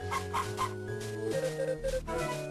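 Chickens cluck in short repeated bursts over soft background music in the video game Harvest Moon: Friends of Mineral Town, a farmyard sound with no talking.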